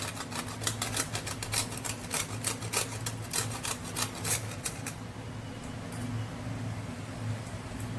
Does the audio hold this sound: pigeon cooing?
no